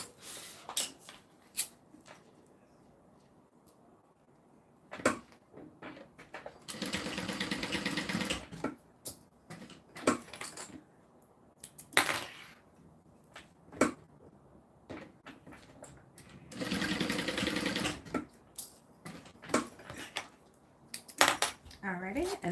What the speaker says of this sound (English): now all I'm going to do is sew down the edge of each side